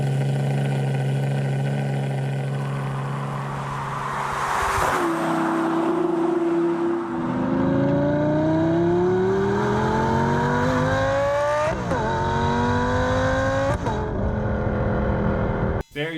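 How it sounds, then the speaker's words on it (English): A grey Lamborghini Superleggera's engine revs and climbs through rising pulls, with sharp throttle blips and gear-change breaks, loud and close throughout. "here's a quick clip of the superlaggera that he has checked out. It's in grey. It sounds absolutely sick."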